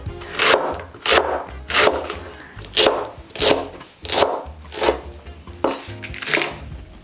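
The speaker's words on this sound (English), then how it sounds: "We're going to thinly slice green onion." Knife thinly slicing green onion on a cutting board for tteokbokki, about nine steady rhythmic chops close up, evenly spaced with no talking over them.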